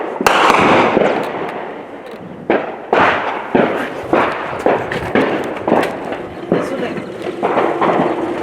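Repeated heavy booms of shelling on the front line at Pisky, Ukraine, several blasts in irregular succession, loud and rumbling, with a crackling rolling decay after each impact.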